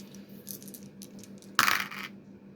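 Dice tossed during a tabletop wargame, a quiet clatter of small taps and then one sharp rattling burst as they tumble and settle on the table, with no voices.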